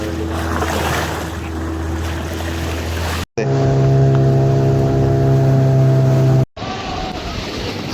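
A boat on the sea off the Konkan coast near Nivati, its engine droning steadily with water and wind noise, cut into three sections by brief dropouts, the middle section carrying a stronger low hum.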